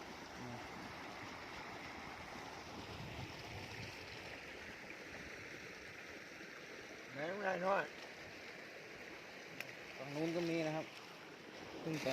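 Water running steadily in front of a drain pipe outdoors beside a stream where crabs and small fish are caught, a continuous broadband rush that stays constant throughout, with two short bursts of speech over it.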